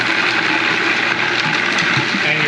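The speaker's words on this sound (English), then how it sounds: "Turn the blender on slow." A blender on its slow setting grinds about two cups of popped popcorn into a coarse meal, producing a loud, continuous whirring rush close by with no talking over it.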